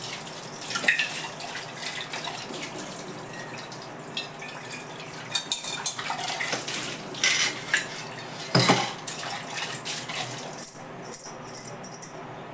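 A milk pot is washed in a home kitchen: scattered metallic clanks and scrapes, running and dripping water, and a few sharper knocks, close and intermittent.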